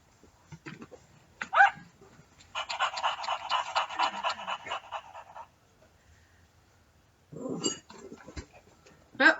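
A battery-powered toy puppy yaps in a rapid run of short barks, then gives a whimpering cry, with quieter gaps and a voice briefly audible nearby.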